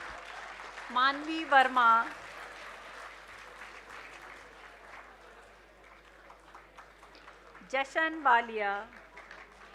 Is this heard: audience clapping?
yes